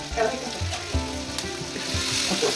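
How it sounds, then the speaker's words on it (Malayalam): Sliced onions sautéing in hot oil with coarse salt, a busy close crackling sizzle broken by stirring scrapes and bumps of a utensil in the pan, steady throughout the short stretch. "നമ്മുടെ സവാള വഴറ്റാം"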